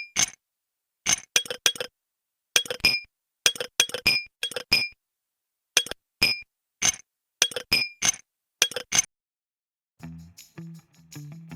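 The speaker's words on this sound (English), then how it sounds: "Every move she makes? It's the sound of ice cubes dancing in a glass." Ice cubes clink against a glass in quick bright clusters of taps, repeated again and again with short gaps between, then a softer lower rattle at the end, with no voices.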